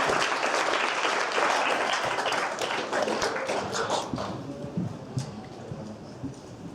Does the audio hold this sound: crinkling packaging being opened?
no